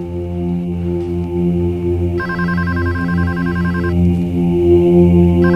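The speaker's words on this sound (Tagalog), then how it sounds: "Cecilia, favor, pwedeng pakisagot yung telepono?" A telephone rings indoors in a dramatic television scene, repeated electronic bursts of ringing with short pauses, loud and steady over a low tonal background hum.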